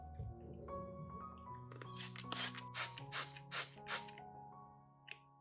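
A plastic spray bottle of homemade cockroach solution squirts several quick, hissing bursts in a rhythmic series, close and fairly loud, after a stretch of clattering handling.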